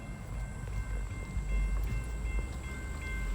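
Freight train sitting at a road crossing beside plantation pipelines, a low, steady rumble of idling rail cars heard from nearby with faint traffic and no voices.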